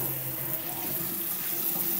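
Cold water running steadily from a tap into a bath toy, a constant close splashing rush with no talk over it.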